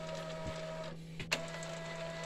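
An Epson L805 UV printer powers up and initializes, giving a steady mechanical hum with a sustained tone, a couple of soft clicks and one sharp clack partway through, heard close and alone.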